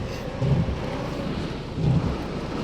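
Rain falls steadily while strong wind blows across an open seating area, a dense continuous wash of noise with two brief low, rumbling gusts swelling up, and no one talking.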